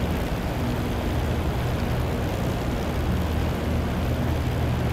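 Spitfire LF Mk. IX engine droning steadily at about 2600 RPM on approach in the DCS flight simulator, a loud continuous propeller-engine roar with no talk.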